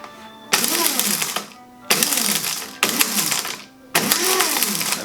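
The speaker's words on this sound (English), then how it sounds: "the long peppers are extremely hard to grind, and therefore I use an electric grinder for my my spices." An electric spice grinder crushing hard long pepper, running in four loud bursts of whirring and rattling, each a second or so long, separated by brief quiet gaps, close up and without speech.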